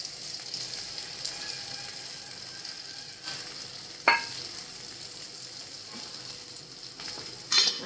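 Stuffed ridge gourd coated in leftover masala sizzles steadily in a hot pan, with a few sharp scraping stirs of a spoon cutting through the constant frying hiss.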